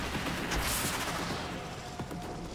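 Rapid, dense gunfire from an Arcwing gun in the video game Warframe during a space shootout, a loud continuous barrage of bursts and booms with no talking.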